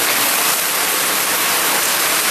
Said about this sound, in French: C'est le déluge ici.